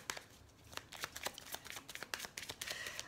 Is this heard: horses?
no